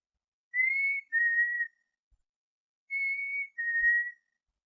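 Someone whistles a soft, sweet two-part call in imitation of a bird's love note, twice, each a rising slur followed by a lower held tone, clear and close in quiet surroundings.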